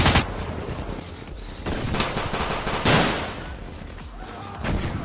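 Machine gun fire as a sound effect in a comedy sketch: rapid rattling bursts of automatic gunfire, loud and close, repeating in several volleys across the few seconds.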